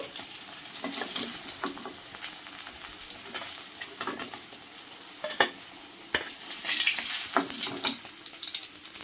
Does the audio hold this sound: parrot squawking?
no